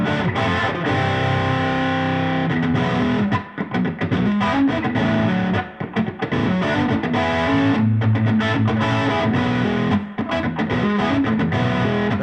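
An electric guitar runs through an amp with heavy distortion, giving a loud, dense, continuous riff with brief choppy gaps and no talking.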